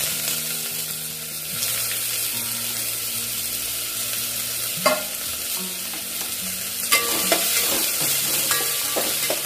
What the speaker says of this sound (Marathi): कांदा ब्राऊन कलर होईपर्यंत परतून घ्यायचा.